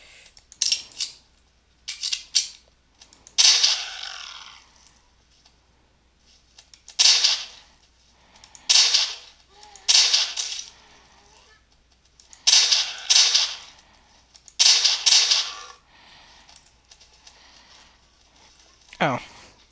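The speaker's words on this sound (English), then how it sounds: "walk up to a zombie and shoot it in the face" Video game gunfire cracks out in short bursts of rapid shots as zombies are shot, clusters repeating every couple of seconds with quiet gaps between them.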